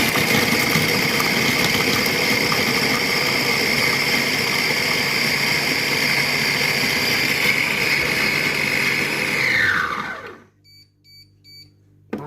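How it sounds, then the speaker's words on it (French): Compact Cook Pro M6 kitchen robot mixing at speed 6 gives a loud, steady motor whir for about ten seconds, then spins down, followed by a few soft electronic beeps in the quiet. "j'ai mis mon couvercle et je vais donc mixer 10 secondes à vitesse 6."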